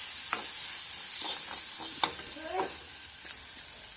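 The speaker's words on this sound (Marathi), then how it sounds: "ह्यात आपल्याला बटाटे घालून मिक्स करून घ्यायचे" Boiled potatoes being stirred and mixed into a vada pav filling in a pan make soft scraping strokes and light clicks over a faint sizzle, sparse and close, with no voices.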